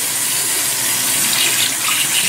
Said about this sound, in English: we're gonna just put some warm water on there right now